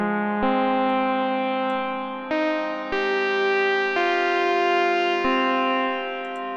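An FM synth in a boutique FM Zone instrument plays sustained, harmonically rich notes and chords through a cavern reverb, the tone shifting with each new note over several seconds, with no talking.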